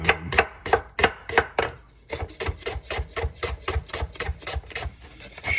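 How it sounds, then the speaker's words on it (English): Sweet onions sliced with a sharp knife on a board, a fast, even series of crisp knife strokes close by, briefly pausing near the middle before resuming at a steady rhythm. "the hardest part about this whole thing is slicing the onions"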